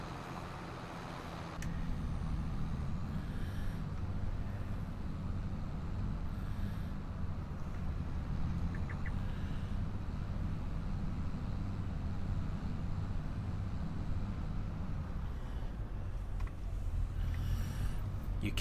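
A tractor engine in Farming Simulator 25 starts up after a moment and then holds a steady, deep, rumbling drone at an even level throughout, close and continuous, with no talk.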